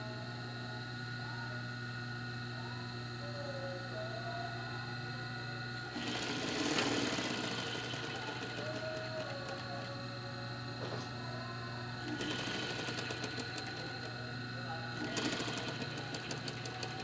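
A sewing machine stitches a French seam with fabric right sides together, running in three short bursts of fast, rattling needle action, each a few seconds long, separated by quiet stretches.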